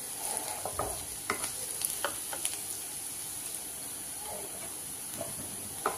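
Soft sizzle of onion frying, with occasional scraping stirs against a pan, steady and close, no talking.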